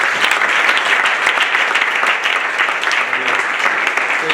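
A crowd applauding a woman at a 29th wedding anniversary celebration, steady close clapping that continues evenly throughout.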